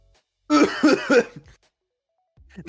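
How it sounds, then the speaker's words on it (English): A few harsh, voiced coughs in quick succession from a nearby person, followed by quiet and a faint low sound at the end. "I'm going to cough now."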